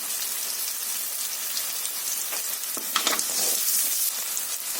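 Onion and salt added to greens frying in a pan, giving a steady soft sizzle with a few brief crackles and stirring scrapes near the end.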